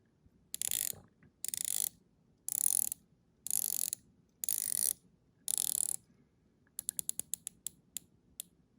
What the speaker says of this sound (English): let's check out the turn action on the bezel